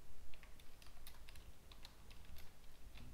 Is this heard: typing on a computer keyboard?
yes